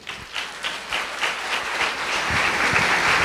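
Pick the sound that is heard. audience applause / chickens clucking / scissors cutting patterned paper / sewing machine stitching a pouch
audience applause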